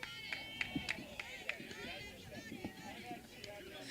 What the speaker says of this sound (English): I love the sound of the crowd when there's a foul ball